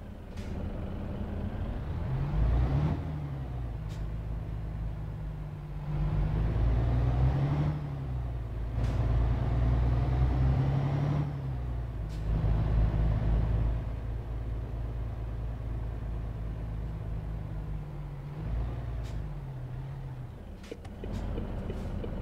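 A heavy truck in Euro Truck Simulator 2 drives on the road with its engine running, a steady deep rumble throughout with a few brief hisses and clicks, like air brakes or gear shifts.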